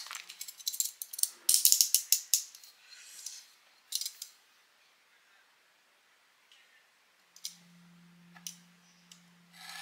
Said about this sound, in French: je vais venir découper avec un cutter